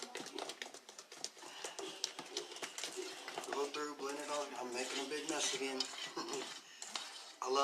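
Chocolate chip cookie dough is worked in a bowl, with clinking utensil taps and scraping against the bowl running under steady talking.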